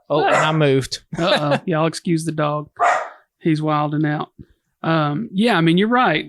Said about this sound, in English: Y'all excuse the dog. He's wilding out.